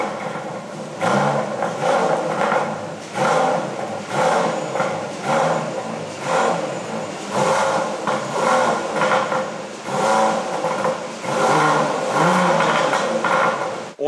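An Aston Martin DBS with a 725-horsepower twin-turbo V12 is revved repeatedly, a burst roughly every second or two between brief idle dips. The sound is loud and close, with no talk.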